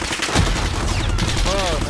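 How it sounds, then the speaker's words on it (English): Loud, close gunfire in Warzone, with rapid overlapping shots throughout under a busy game mix and some voice chatter. "Are you shooting me?"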